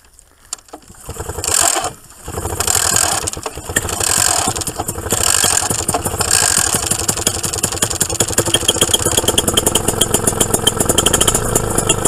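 A paramotor's small engine sputters unevenly at first, then settles into a loud, steady idle with a rapid, rattling pulse close by, running continuously without speech.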